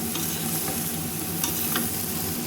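Bean seeds and pumpkin bori curry with green chillies stir-fried in a pan, a steady close sizzle with scraping stirs throughout.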